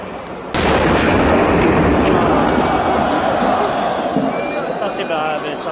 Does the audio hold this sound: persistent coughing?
no